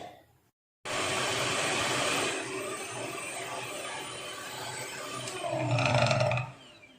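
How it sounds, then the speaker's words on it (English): A blender whips Dalgona coffee cream to a foamy texture, giving a loud, steady whirring roar that starts abruptly after a brief silence, dips slightly midway, then swells louder near the end before stopping. "Now I have to blend it all together until it gets a foamy texture."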